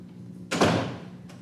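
A locked door in a city council meeting room is tried and rattles once in a short, loud burst that fades quickly, with a faint second knock after it and no talking.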